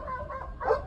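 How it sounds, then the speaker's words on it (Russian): Stray dogs bark at night on a residential street, a short burst of barking that swells near the end over a low rumble. "как только сюда заехал, они сразу начали лаять"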